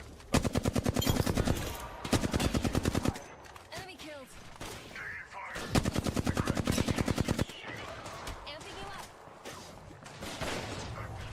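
Rapid automatic gunfire from an enemy team in a competitive shooter game, three long bursts of evenly spaced shots, loud and close, with quieter game noise and some talk between bursts.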